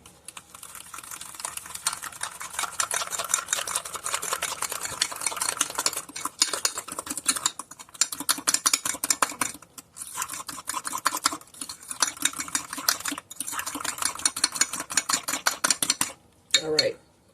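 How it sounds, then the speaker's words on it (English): A fork whisks creme brulee custard mixture for filled donuts in rapid, continuous metallic clicking and clinking. The strokes break off briefly a few times before resuming, and the sound stays close and moderately loud. "then you want to mix this together, whisk it together very well."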